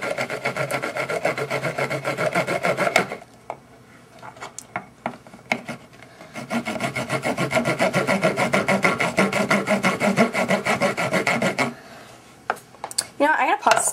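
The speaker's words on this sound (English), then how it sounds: "So it's back to the sawing." Rapid back-and-forth rasping strokes of a hand saw cutting an Urban Decay Primer Potion plastic tube, in two long bursts separated by a short pause.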